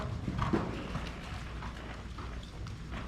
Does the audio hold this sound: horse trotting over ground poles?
yes